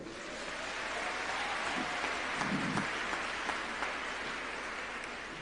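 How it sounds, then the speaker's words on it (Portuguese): A church congregation applauds during an enthusiastic sermon, a steady wash of clapping held at an even level throughout with a few louder claps rising above it. "Quem está me entendendo pode aplaudir."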